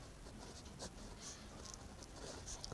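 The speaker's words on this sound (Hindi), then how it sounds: "तो यहाँ लिखेंगे समीकरण" Faint scratchy strokes of a pen writing a maths equation on paper, short irregular bursts of soft scribbling close by in a quiet room.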